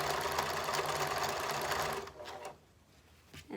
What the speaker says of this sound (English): to get the sewing machine to start pulling it through